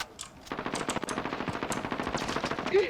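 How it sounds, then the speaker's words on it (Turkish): Automatic gunfire in the Call of Duty Warzone video game, a rapid, rhythmic burst of shots with recoil, fairly quiet and sustained for a few seconds before a brief tonal blip at the end. "bu silah ne biçim sekiyormuş böyle"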